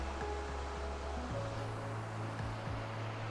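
A waterfall in a Norwegian forest rushes as a steady, broad roar of falling water, continuous and fairly close with no voices over it.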